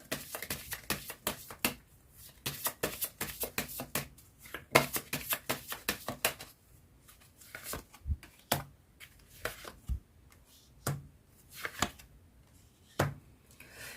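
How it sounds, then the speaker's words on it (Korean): Tarot cards are shuffled and drawn by hand, making rapid riffling bursts followed by sparser single slaps and flicks, close and dry with no talking. "그럼 마지막으로 조언점 카드 뽑아보도록 할게요."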